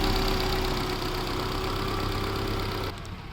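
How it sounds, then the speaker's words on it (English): A 2014 Maruti Gypsy King engine idles steadily with a low, even rumble and slight knocking pulse, close by, continuing for a few seconds before dipping slightly. "Right now the vehicle is in idling condition, so you can just check out the sound of the vehicle"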